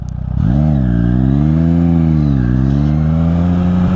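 A Triumph Street Triple 660S motorcycle engine drops from a throaty rev into a steady, wavering idle as the clutch is pulled in, loud and close, with no talking.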